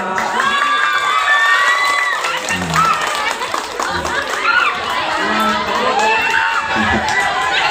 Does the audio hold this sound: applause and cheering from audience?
yes